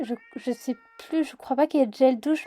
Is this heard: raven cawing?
no